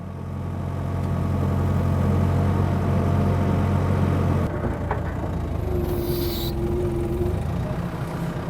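A backhoe loader engine idles steadily with a loud, low, continuous rumble, then the tone shifts and thins partway through as revs drop, with a faint whine and hiss later.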